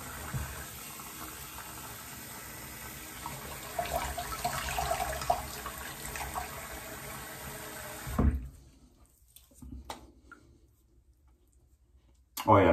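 Water runs steadily from a bathroom sink for about eight seconds while someone rinses off after a wet shave, then cuts off, leaving a few faint clicks and splashes.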